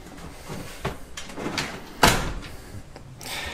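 Double doors to a walk-in shower on a 2008 Lagoon 420 diesel-electric hybrid catamaran open with a sharp, fairly loud knock or latch click midway, amid softer handling knocks and rustle, with no talk.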